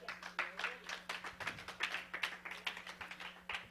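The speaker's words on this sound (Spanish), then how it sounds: "Dele un aplauso al Señor" A church congregation claps in a steady, lively rhythm, many hands together at close range, continuous applause with no voices over it.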